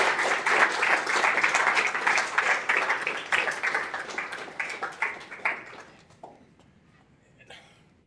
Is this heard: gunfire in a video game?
no